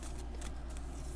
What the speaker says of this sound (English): So they still shuffle pretty well.